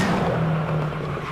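A race car braking hard at the Simola hill climb, a loud, close, continuous roar of engine and tyre noise with a steady low tone lasting just over a second.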